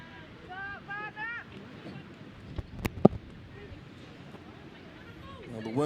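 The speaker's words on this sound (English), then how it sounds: "The wind is starting to really blow here at Blockhouse Bay in Auckland." Strong wind gusting across an open rugby ground at Blockhouse Bay, Auckland, during a women's premiership match, a steady rushing roar buffeting the microphone while a commentator talks over it.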